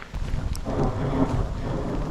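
Rain and thunder roll through a mountain trail race at the Val d'Aran by UTMB, a steady broadband wash of rainfall with a low rumbling swell, loud and continuous without talk.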